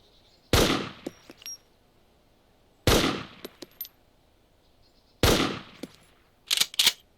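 Gunfire in the DayZ Mod game: three sharp, loud shots spaced a couple of seconds apart, each followed by a decaying echo and short clattering tails, with a quick double burst at the end and no talking.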